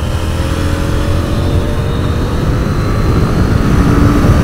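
KTM 890 Duke R motorcycle engine pulling hard under acceleration, a loud, steady, raspy drone with wind roar, recorded from the moving bike.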